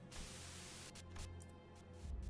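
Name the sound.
radio static white noise buzz, video game Limbus Company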